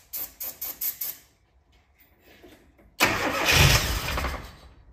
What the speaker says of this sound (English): So see if it turns over first of all.